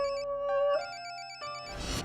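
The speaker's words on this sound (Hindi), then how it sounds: "आपका फोन बज रहा है" A telephone rings with a melodic ringtone, a clear repeating electronic tune of stepped tones, fairly quiet and heard alone before a brief burst of noise at the end.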